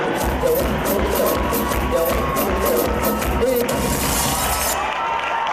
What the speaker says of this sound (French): Arrêtez d'applaudir, j'ai honte